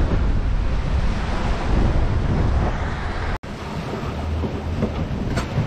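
Gale-force wind roars with crashing waves at sea in the Bay of Biscay, a loud continuous rush buffeting the microphone, with a brief dropout partway through.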